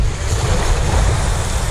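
Big sea waves slap against a small fishing boat off the Kerala coast, a loud, close roar of surging water mixed with heavy wind rumble on the microphone.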